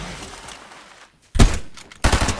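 Two loud, sharp sniper rifle shots in the Fortnite video game, separated by a brief pause, each with a short ringing tail over steady game ambience.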